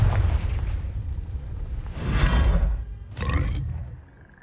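Confringo explosion spell in Hogwarts Legacy: two loud, rumbling fiery blasts, the second sharper and brighter, sound over a low ongoing roar before fading to a faint tone.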